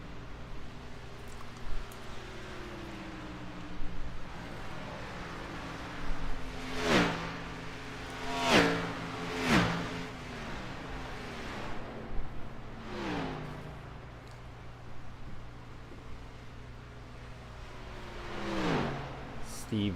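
Race cars howl past on the oval at Homestead Miami Speedway in a series of loud, close pass-bys with Doppler-falling engine notes and steady engine drone between them, while a commentator talks over the top.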